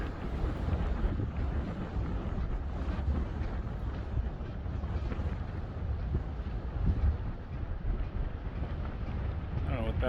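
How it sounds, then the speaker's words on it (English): Heavy wind buffets the microphone at a hilltop wind farm, a continuous loud rumbling roar throughout with a voice faintly talking beneath it. "Not sure if you can hear me now with the wind"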